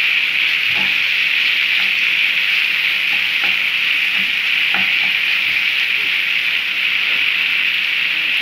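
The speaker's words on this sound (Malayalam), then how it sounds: "തക്കാളി ഇട്ട് നന്നായിട്ട് ഇളക്കണം" Chopped tomatoes fry with a steady, loud sizzle in a pan while a spoon stirs them, giving faint scraping knocks scattered through the continuous hiss, with no voices.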